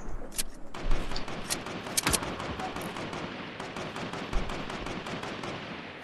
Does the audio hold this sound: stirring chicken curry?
no